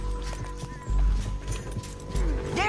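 Horse hooves clip-clop on the ground in the video game Red Dead Redemption 2, a loose irregular rhythm of hoof thuds heard alongside game sounds, with no speech.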